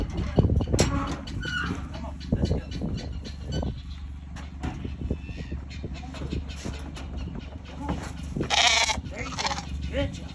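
Sheep and lambs bleat repeatedly at weaning on a farm, loud, close, overlapping calls over a steady outdoor background with some other animal noise.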